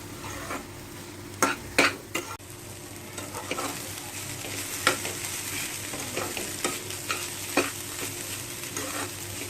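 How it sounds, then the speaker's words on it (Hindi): Vegetable filling for veg momos fries in a pan over low flame, with a continuous sizzle broken by several sharp spoon-on-pan scrapes and clinks early on, then softer stirring knocks, no voices. "इसको अच्छे से हम भून लेते हैं।"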